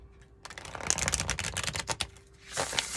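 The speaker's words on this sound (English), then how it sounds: "that's a beautiful shuffle" A Twin Flame Journey Tarot deck by Mystic Moon being riffle-shuffled: a dense, crisp flutter of card edges for about two seconds, a short pause, then a second burst of shuffling. No one speaks.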